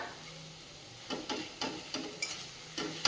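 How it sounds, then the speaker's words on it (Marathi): Grated fresh coconut and raw mango are stir-fried in a pan with a faint sizzle and a series of soft, irregular scraping stirs, quiet and close with no talking. "हा ओल्या नारळाचा चव देखील ह्याच्यासोबत साधारण अजून दोन ते तीन मिनटं आपण परतून घेऊयात"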